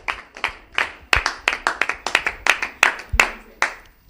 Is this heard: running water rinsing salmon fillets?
no